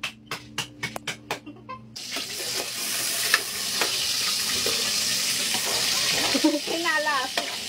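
Food sizzles and fries steadily in a pan, loud and close, after a short series of sharp knocking taps, with brief voices and clatter.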